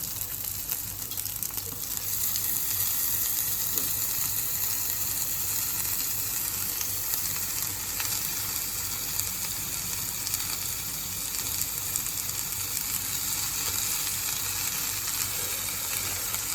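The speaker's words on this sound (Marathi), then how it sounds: "सो हितून आमी आतां भाजी ॲड करया." Fenugreek greens sizzle in a pan with onion and tomato, a steady close hiss and crackle of frying that carries on evenly without pause.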